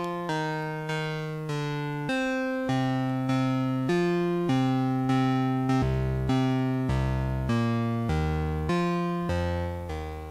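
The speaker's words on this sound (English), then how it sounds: "with that longer decay, that plucky bass sounds a little bit more like a harmonium" A Mutable Instruments Plaits Eurorack synthesizer plays a steady run of plucked bass notes, each attack followed by a long sustaining decay that blurs into the next, sounding somewhat harmonium-like, with no voices.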